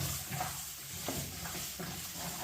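Chunks of vegetables such as yam and taro go into a pot with cooked cowpeas and are stirred: faint scraping and stirring over a soft, steady sizzle, with a few light knocks.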